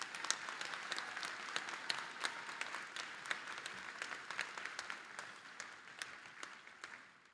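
Graduates at a university commencement applaud faculty and staff in a broad, continuous round of clapping that heard from a distance in a large venue, thinning toward the end.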